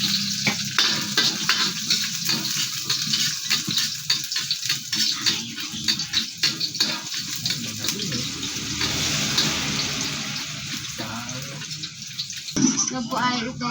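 Garlic, onion and other aromatics sizzle and fry in hot cooking oil while being stirred in a pan for a bottle gourd sauté, a steady crackling hiss with scraping stirs throughout.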